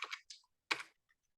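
A few soft clicks of keys tapped on a computer keyboard while entering a command, faint and close, in a quiet room with no talking.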